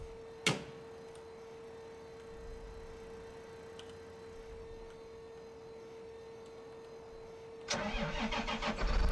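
A tractor engine in the video game Landwirtschafts Simulator 2013 cranks and catches near the end, rising into a loud rough idle after a long stretch of quiet hum and a single sharp click early on.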